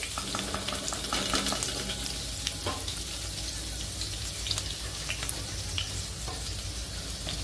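Crushed garlic fries in a pan with a continuous close sizzle and scattered crackling pops, moderately loud and steady throughout, with no voices.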